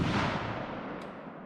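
A Savage Axis 6.5 Creedmoor rifle fired outdoors, a single loud blast at the very start that decays into a long fading rumble, with no talk.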